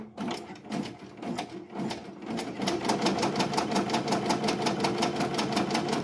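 Embroidery machine sewing 3D puff embroidery onto a hat, a steady rapid mechanical stitching rhythm, close and fairly loud, running continuously and speeding up slightly partway through, with no talk over it.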